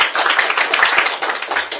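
An audience claps for a lottery winner drawn from thousands of crowdfunding participants at a Korean political party event, steady dense applause from a crowd, loud and close throughout with a brief low hum near the end.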